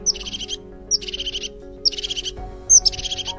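A crested tit sings in a repeated pattern: four short buzzy, trilling phrases, each opened by a high thin note, come at a steady rhythm, clear and close over a faint low background hum.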